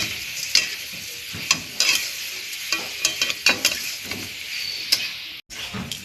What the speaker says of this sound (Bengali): এটাকে 5-6 মিনিট নাড়তে হবে।